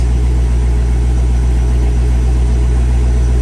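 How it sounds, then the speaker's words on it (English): A base model C5 Corvette engine idles with a steady, deep low rumble, loud and constant throughout, with no voices. "We're going to start the vehicle."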